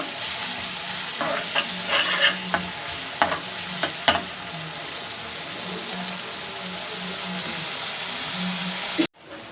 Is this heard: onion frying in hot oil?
yes